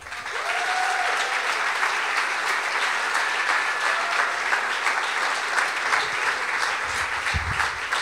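Steady applause from a sold-out audience welcoming a rapper onto the stage at a live talk event, a dense, continuous clapping wash that stays loud and even throughout.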